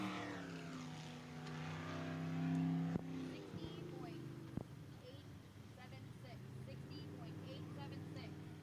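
A racing boat engine at full throttle crosses the finish line at an ASBR pro race in Yakima, Washington, a loud sustained roar that sweeps past and fades into a lower, distant drone.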